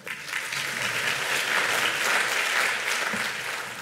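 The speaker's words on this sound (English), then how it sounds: "let's give Dave a round of applause and a warm welcome." Audience applauding to welcome a keynote speaker at a media lab conference, a full, steady round of clapping that swells slightly and holds for several seconds.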